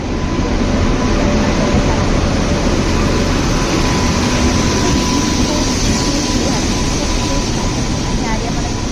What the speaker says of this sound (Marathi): तर हे बघा, रेल्वे पण आलेली आहे